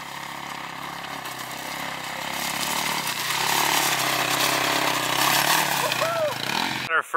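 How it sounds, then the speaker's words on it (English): A dirt bike engine drones steadily while riding, a buzzing motor that swells in the middle and stays loud until cutting off at the end. "first taste of the dirt bike here with Sam."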